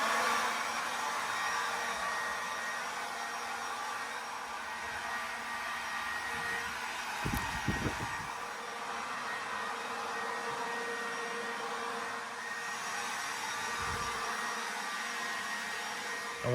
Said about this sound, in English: we're gonna go ahead and blow off the deck, blow off the sidewalks